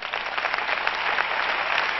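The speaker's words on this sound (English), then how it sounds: "If you're saved, clap your hands." A church congregation clapping together at a revival service, a dense, steady burst of many hands that stays full and even throughout.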